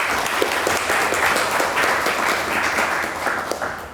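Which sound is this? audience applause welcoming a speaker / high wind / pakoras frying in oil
audience applause welcoming a speaker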